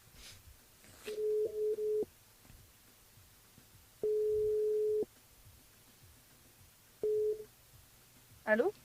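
A telephone line tone before a radio call is answered repeats in short flat beeps, with a longer steady tone in the middle and another brief burst, all over faint background noise.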